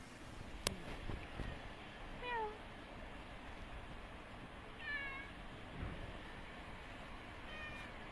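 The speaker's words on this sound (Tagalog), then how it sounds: "Ang orange cat." An orange cat meows a few times from a short distance, its thin rising cries scattered between quiet gaps over low outdoor background noise.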